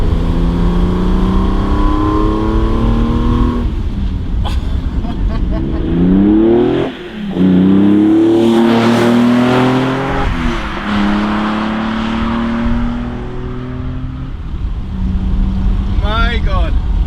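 A classic BMW engine with Weber carburetors revs hard and loud, pitch climbing and falling through several pulls, with a brief dip before roaring again.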